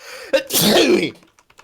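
A single loud sneeze bursts out close by, preceded by a sharp intake of breath and followed by a few faint small sounds.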